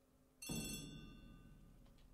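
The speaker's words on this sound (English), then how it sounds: "The telephone in the hall is ringing." Telephone bell ringing in a hall in a video game: a single bright electronic ring starts suddenly and rings out, fairly quiet against a soft background.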